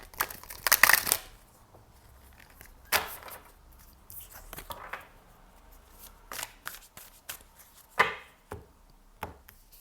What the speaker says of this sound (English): Give this a riffle shuffle.